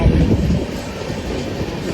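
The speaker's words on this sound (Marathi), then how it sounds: "काय रेल्वे आली रेल्वे फुटली" A train rumbling close by with rhythmic clickety-clack of wheels on rails, loud and steady, heaviest at the start and then settling into a continuous roll.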